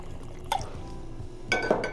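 Blue Weber agave tequila is poured into a cocktail tin in short, quiet splashes, with two brief bursts of liquid and glassy clinks standing out against low room noise.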